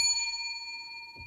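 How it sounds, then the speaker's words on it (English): A single bell struck once, ringing with a clear, sustained metallic tone that decays slowly over about a second, close and moderately loud with a faint low thump near the end. "This is my bell."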